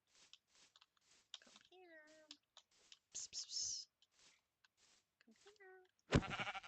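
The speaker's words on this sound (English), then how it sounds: "Oh, where's the sheep?" Sheep in the Minecraft video game bleat in short wavering cries amid a player's clicks and soft chatter, with a loud burst of game noise at the end.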